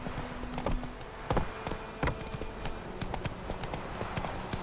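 Horse hooves galloping in the video game The Witcher 3, a rapid uneven clip-clop of hoofbeats on ground, close and steady, with faint ambient wind behind.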